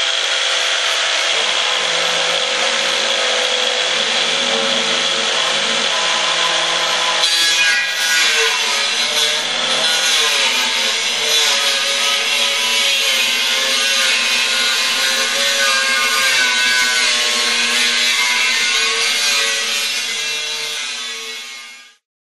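An angle grinder cuts through a stainless steel keg with a loud, continuous, high-pitched screech. The pitch shifts partway through, and the sound runs about twenty seconds before stopping abruptly.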